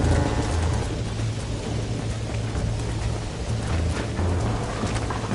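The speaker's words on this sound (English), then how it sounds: "Storm's getting worse." Thunderstorm with steady heavy rain in the Western video game Red Dead Redemption, a dense continuous wash of rainfall with low rumbling thunder underneath, loud and close throughout.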